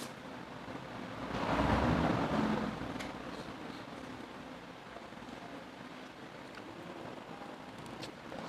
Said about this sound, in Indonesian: Di luar kagak, di rumah doang hujan ya.